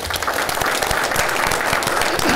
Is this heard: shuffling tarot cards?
no